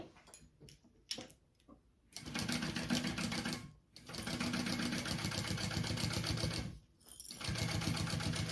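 A sewing machine top-stitches along the outer panel of a sling bag in bursts: a few short, sparse stitches first, then long rapid runs of rhythmic needle chatter separated by brief pauses, close and clear.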